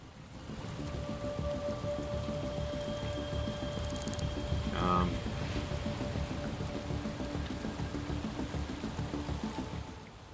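Steady rain patters and hisses in a city in the Shadows of Doubt game, a dense even downpour with faint tonal hums underneath and a short rattling burst midway, no voices.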